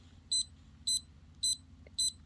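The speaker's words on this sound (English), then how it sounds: "it makes a beeping sound for as long as you hold it." A small electronic device gives four evenly spaced, sharp high-pitched beeps while its A button is held, each short tone clear over a low steady hum with no talking.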